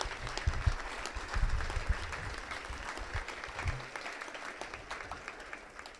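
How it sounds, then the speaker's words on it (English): An audience at a Veterans Day ceremony applauds schoolchildren, a sustained burst of indoor clapping from a crowd that holds steady and slowly thins out. "Let's just give all these kids a round of applause"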